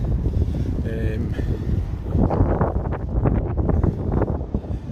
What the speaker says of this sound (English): It's a sheer amount of wind is bigger than I was expecting.